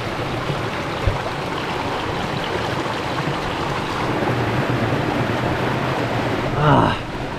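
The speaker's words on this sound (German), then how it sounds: "Zum Glück gibt es hier einen Bach." A stream in central France rushes continuously while water bottles are filled, a dense steady burble of flowing water, close and loud, with a brief splash near the end.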